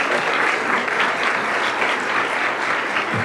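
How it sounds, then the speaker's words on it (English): A room at a Board of Education meeting gives a round of applause for the Teacher of the Month, with continuous dense clapping at an even level throughout. "round of applause."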